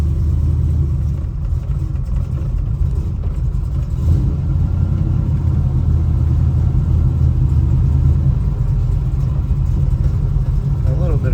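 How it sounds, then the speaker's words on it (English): A 1969 Chevrolet Nova SS engine rumbles steadily and loudly from inside the car on a test drive, a deep continuous drone with slight swells. "we're going to take this 1969 Chevrolet Nova for a test drive and see how it does"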